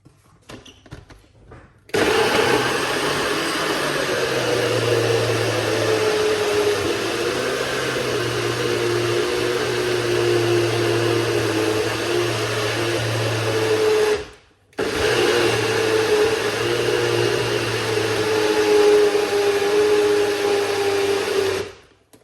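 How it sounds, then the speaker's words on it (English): A loud blender whirs steadily for about twelve seconds, cuts out briefly, then starts up again and runs on, with no talking. "We're going to blend it and make a little bit of a noise."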